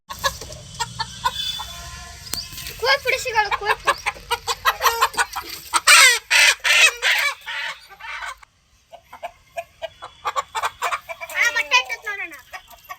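Native country chickens at a small backyard coop cluck and squawk repeatedly in uneven bursts, close and fairly loud, with some hens shut in nearby and a voice briefly heard at times.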